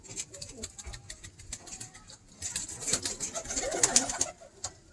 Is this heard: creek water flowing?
no